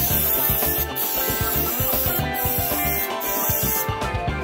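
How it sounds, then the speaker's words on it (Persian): A spray can hisses over a homemade Peugeot 405, 206 or Persia car logo in steady, loud bursts mixed with rubbing and handling noises, close up and with no talking. "حالا اسپری میزنیم"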